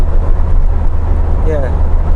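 Lotus Exige sports car driving on the road, a steady low engine drone and road rumble filling the interior with wind noise, while a voice talks over it.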